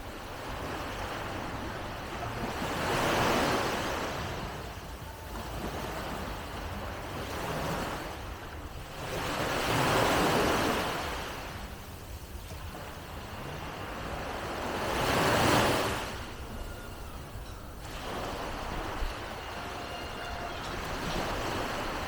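Surf on Chaweng Beach, Koh Samui, Thailand, where waves roll in and wash up at slow intervals of roughly six seconds, each swelling and fading over a constant soft background roar, with no voices.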